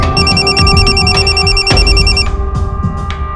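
A telephone rings loudly in a steady, repeating electronic pattern for about two seconds, then cuts off, leaving brief soft knocks and handling noise. No one speaks.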